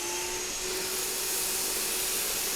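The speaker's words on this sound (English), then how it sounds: "this is one of the easiest probably items to pick up for the vacuum cleaner" Black & Decker Dustbuster Flexi 12V handheld vacuum picking up rice, a loud, steady motor whine with a constant high hiss throughout the short stretch.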